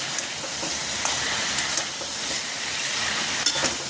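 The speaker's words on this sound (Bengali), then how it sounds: "চিকেন ভাজা হচ্ছে।" Chicken sizzles in hot oil in a pan, a steady bright frying hiss with occasional sharper crackles and small stirring knocks, close and alone.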